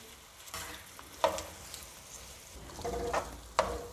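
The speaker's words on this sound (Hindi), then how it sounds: "अब मीडियम फ्लेम पे हम इन प्याज को डार्क ब्राउन करेंगे।" Two medium onions fry in a cup of oil over a medium flame for a beef pulao, giving a steady soft sizzle with a few sharper scraping stirs near the middle and the end.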